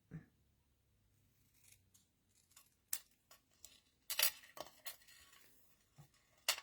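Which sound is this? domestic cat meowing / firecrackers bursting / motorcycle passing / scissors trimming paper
scissors trimming paper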